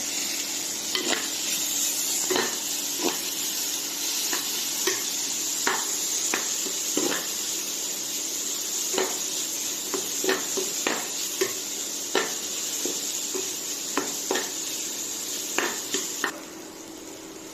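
Tomato and turmeric fry in a pan with a steady sizzle while a spoon stirs them, scraping and clinking in repeated strokes, close up and without talk, the sizzle dropping off in the final second.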